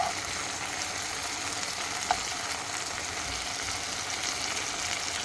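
Chicken drumsticks fry in hot oil in a pan, giving a dense, even crackling sizzle that holds steady and close for the whole stretch with no talking.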